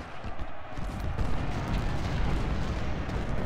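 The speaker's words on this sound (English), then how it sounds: "finally starting to get some artillery support going here so we can deal with these batteries" Booming cannon fire from Civil War artillery batteries at Fredericksburg in Ultimate General: Civil War, a continuous rumbling barrage of overlapping distant blasts with no clear gaps.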